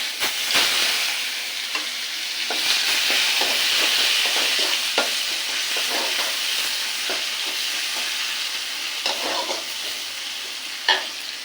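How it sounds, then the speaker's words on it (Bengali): Chopped onion and nigella seeds fry in oil in a wok with a loud, continuous close sizzle, broken by scattered crackles and stirring clicks, and no voices. "কড়াইতে আর একটু তেল দিয়ে দেবো দিয়ে দেবো কালো জিরে ফোড়ন আর দিয়ে দেবো পেঁয়াজ কুচি"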